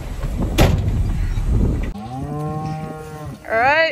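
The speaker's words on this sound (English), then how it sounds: "Cows and calves are all back together." Cattle on a farm lowing as cows and calves are reunited in a pasture: loud, close moos with long drawn-out tones and a rising final call, over a noisy outdoor backdrop of scuffling and other farm sounds.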